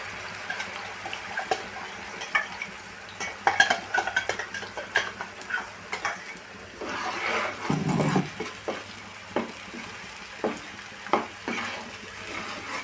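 A paste fries in hot oil over medium heat for a fish dish, giving a steady crackling sizzle broken by scraping stirs and one louder splattering burst, with no talking.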